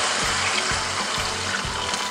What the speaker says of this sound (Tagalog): Saka po natin ilalagay itong ating tubig.